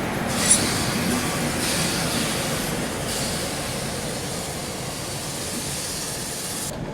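Prayagraj Express running after leaving Kanpur Central, a continuous loud rumble of rolling stock heard from inside the train, with steady wheel noise and a brief sharp click near the start, no talking.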